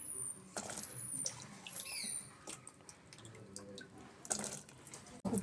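Pieces of cauliflower being prepared for gobi manchurian are dropped into hot water in a kitchen, with soft splashes, drips and light clinks, fairly quiet, no talking.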